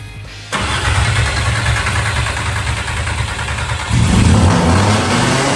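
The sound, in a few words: car engine starting and revving on ether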